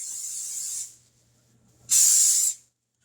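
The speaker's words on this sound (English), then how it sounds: "we're going to spray it good because we don't want it to stick" Two hissing bursts of cooking spray onto a waffle maker, the first lasting nearly a second and the second shorter and louder, with a quiet pause between.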